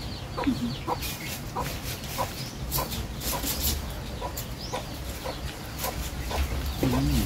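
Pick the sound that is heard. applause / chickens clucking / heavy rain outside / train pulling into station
chickens clucking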